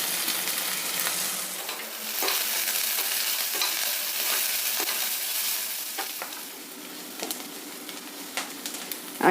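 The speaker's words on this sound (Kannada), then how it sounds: "ಈಗ ಒಗ್ಗರಣೆ ಎಲ್ಲ ಚೆನ್ನಾಗಿ ಫ್ರೈ ಆಯಿತು ಈರುಳ್ಳಿ ಎಲ್ಲ ಚೆನ್ನಾಗಿ ಫ್ರೈ ಆಗಿದೆ" Steady crackling sizzle of onion, chillies, curry leaves, cumin and peppercorns frying in a pan, with occasional sharp stirring clicks and scrapes, close and fairly loud.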